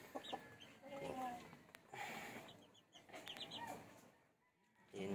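Asil (Shamo) chickens on a free-range farm cluck and call in short bursts amid steady outdoor background noise, with other birds chirping faintly at higher pitch.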